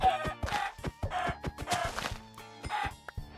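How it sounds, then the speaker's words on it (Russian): Minecraft chickens cluck in a survival game set in an icy world, a quick series of short, clear, nearby clucks in an uneven rhythm, loud and alone without talk. "Ой, курица, иди-ка сюда."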